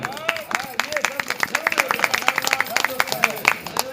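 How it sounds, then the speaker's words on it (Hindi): Scattered audience clapping at a Ramlila stage performance, with bursts of claps rising and falling over steady crowd chatter and speech-like voices throughout. "लक्ष्मण के लिए एक बार सभी लोग जोरदार तालियां बजाएं"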